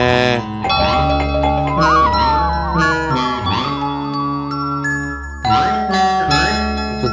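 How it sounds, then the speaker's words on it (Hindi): A melodic electronic doorbell chime plays a sustained tune for about seven seconds in a TV sitcom home, its notes ringing loudly and close, restarting near the end with no talk over it. "दरवाजे की घंटी बज रही है।"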